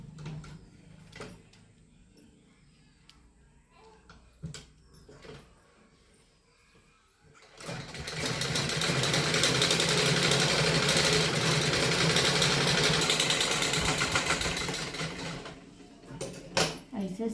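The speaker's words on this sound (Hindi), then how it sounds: "हमें अस्तरवा पे एकदम किनारवा सिलाई लगा" A sewing machine stitches along the edge of a net kurti lining, its steady whirring run lasting several seconds at close range, with quieter handling clicks and knocks before and after.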